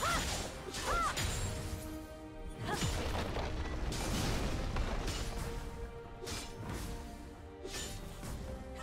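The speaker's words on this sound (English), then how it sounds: "Blue Team's turret has been destroyed" A turret collapsing in a League of Legends match between Riven and Aatrox, heard as crashing impacts, whooshes and booming rumbles layered with game effects, moderately loud and continuous.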